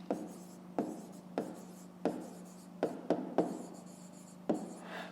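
Pen writing by hand on paper while working a grade-5 math exercise, a series of distinct scratchy strokes repeated at irregular intervals, close and fairly quiet over a low steady hum, with no talking.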